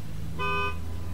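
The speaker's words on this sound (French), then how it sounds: "Le klaxon est en ordre." A single short car horn honk in Forza Horizon 3, a steady harmonic toot lasting under half a second over a constant low engine idle hum.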